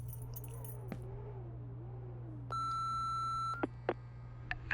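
A phone voicemail beep in the horror video game Remothered: Broken Porcelain: one steady electronic tone lasting about a second, followed by a few short clicks over a low background hum.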